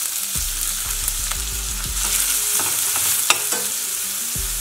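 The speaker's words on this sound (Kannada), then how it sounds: "ಈರುಳ್ಳಿ ಕಲರ್ ಚೇಂಜ್ ಆಗುವವರೆಗೂ ಹುರ್ಕೊಳ್ಳೋಣ." Chopped onions and cumin seeds frying in oil in a pan, a steady loud sizzle with occasional stirring scrapes and clatters, no voices.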